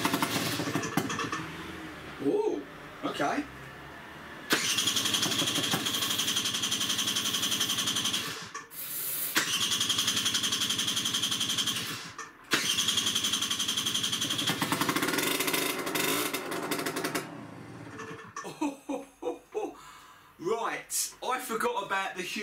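Speedfight 2 50cc moped scooter with a holed exhaust turning over and running in loud buzzing bursts with brief cut-outs, ending in sputtering, with someone speaking briefly.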